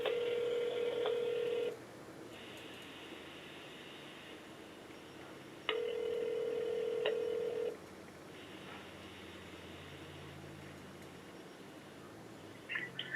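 A phone call ringing out, two-tone ringback pulses repeating in long bursts separated by pauses, steady and fairly clear with no talking.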